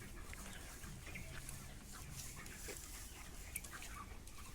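Young chickens, all around one kilogram in weight, cluck and chirp together at a poultry farm, forming a steady, dense chorus of overlapping calls with faint background noise and no talking.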